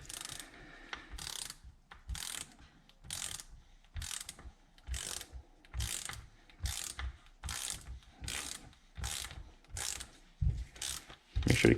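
A torque wrench ratchets in a steady series of about a dozen sharp clicking pulls while tightening parts on a DVO Diamond Boost bike suspension fork, close and alone.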